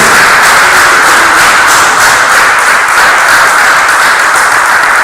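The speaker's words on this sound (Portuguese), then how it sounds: "Você pode dar uma salva de palmas ao Senhor?" A church congregation applauding, with steady dense clapping that stays loud and constant throughout, no voices standing out.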